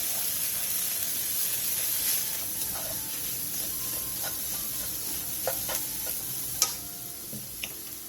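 Garlic chives and eggs are stir-fried together in a pan, giving a steady close sizzle with light scraping stirs and a few small ticking utensil taps, without speech.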